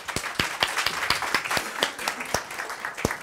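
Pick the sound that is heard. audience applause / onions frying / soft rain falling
audience applause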